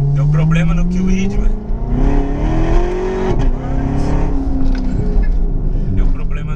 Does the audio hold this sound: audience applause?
no